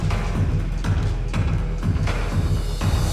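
The Rocket League anniversary version of the Fortnite battle bus music plays, a short loud video game track with a steady pulsing beat and full, busy instrumentation.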